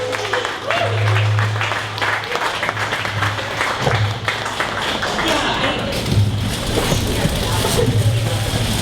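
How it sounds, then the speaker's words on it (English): A business-meetup crowd at 1 Million Cups Dallas applauds to welcome Brittany from Akola, steady clapping mixed with scattered taps, thumps and a low hum, and some talk drifting through. "Please, round of applause"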